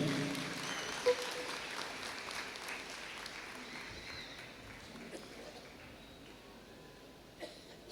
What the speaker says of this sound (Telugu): వారికి గట్టిగా చప్పట్లతో వారిని ఆహ్వానించుదాం.